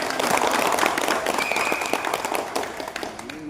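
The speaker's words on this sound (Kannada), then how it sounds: "ಅವ್ರಿಗೂ ಅವ್ರ ಕುಟುಂಬದವ್ರಿಗೂ ಸಹ ಒಂದು ಜೋರಾಗಿ ಚಪ್ಪಾಳೆ" An audience at a ceremony gives a dense burst of applause, many hands clapping close together and loud, tapering slightly toward the end.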